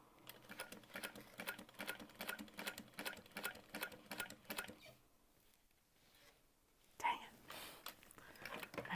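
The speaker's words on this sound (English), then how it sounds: "I'm going to back stitch, and then I'm going to continue to sew up." Domestic sewing machine stitching up the side of a fabric handbag, a fast rhythmic run of needle clatter for about five seconds, then a quiet pause and a brief burst of mechanical noise near the end.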